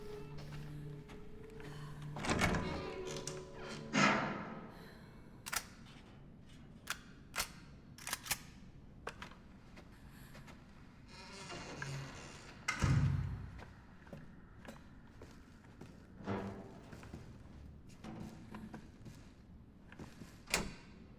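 A locked door tried in the Resident Evil 7 video game: repeated rattling clunks and latch clicks, some loud, others sharp and brief, scattered over a low room hum.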